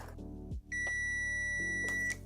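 Multimeter continuity test on a freshly crimped Deutsch or WeatherPack connector, a steady electronic tone that drops out briefly and then sounds again, close and loud, with a faint click in between.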